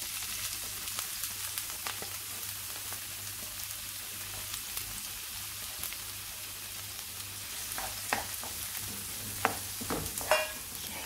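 Onion frying in hot oil in a pan gives a steady, fine hiss with scattered soft pops and a few louder crackles near the end, heard close and alone.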